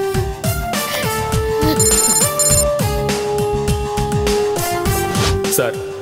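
Electronic telephone ringtone for a DGP police hotline call in a Telugu crime thriller film, a repeating melodic trill of beeping tones that fills the scene continuously, mixed with background score.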